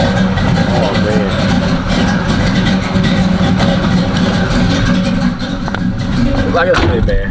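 Idling Box Chevy V8 fitted with a heavy chopping cam, a dense loping rumble held steady and loud for several seconds with voices talking over it.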